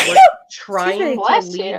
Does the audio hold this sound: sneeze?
yes